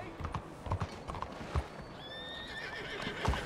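Horse in the Red Dead Redemption 2 video game, with a few hoof clops spaced through the clip and a clear neigh rising partway through. The sounds are close, over low town background noise.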